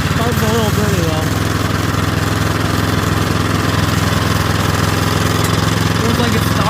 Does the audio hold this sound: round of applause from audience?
no